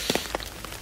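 Rain falling in Kiyosumi Garden, a Japanese garden, as a steady wash with a few close drip-like taps over it, and no voices.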